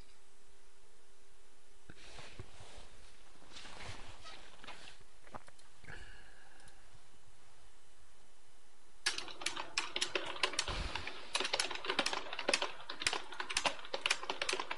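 Typing on a computer keyboard, quiet sparse taps at first, then a fast, busier run of close keystrokes in the second half, with faint background noise.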